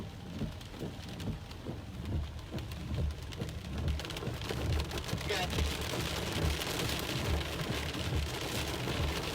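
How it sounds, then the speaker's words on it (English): Heavy rain pours steadily during a tornado storm, a dense continuous wash of drops hammering surfaces close by with rumbling low noise underneath and no break throughout. "It's pouring down rain."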